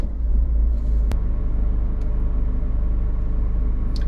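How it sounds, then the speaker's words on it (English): A car engine turns over with a sharp click, then settles into a steady low rumbling idle that continues evenly close to the microphone. "Let's start the car up."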